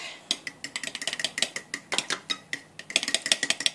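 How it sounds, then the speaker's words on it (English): Fork whisking eggs in a mixing bowl, a quick steady run of sharp clinking taps against the bowl, close and loud, with no talking. "put your eggs into a mixing bowl or anything really that you can mix them with, and just whisk it with a fork"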